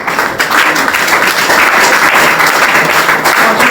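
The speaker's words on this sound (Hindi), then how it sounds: "आज तो खैर आप ताली बजा रहे हो" A seminar audience at a Vestige leadership training event gives loud, continuous applause, a thick, even roar of clapping hands that fills the room throughout.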